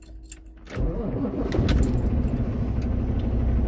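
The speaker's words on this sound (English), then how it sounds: "Start this truck up." A truck engine cranks and catches, then settles into a loud, steady idle after a jingle of keys, with no talking.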